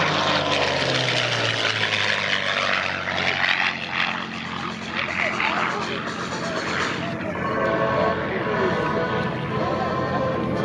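Mustang fighter plane flying past at a Columbus airshow, a loud sustained propeller engine roar that swells and shifts in pitch as it passes, with an announcer talking over it.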